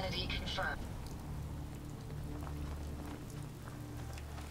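Steady rain patters in Fallout 4 as an even, hissing wash with a low ambient rumble beneath, holding constant throughout while someone briefly speaks at the start.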